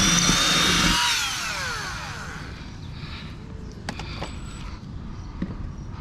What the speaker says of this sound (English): so let's just go ahead and drill this one out.